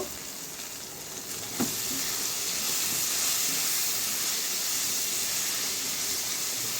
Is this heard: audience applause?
no